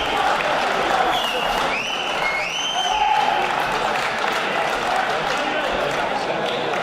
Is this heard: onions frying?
no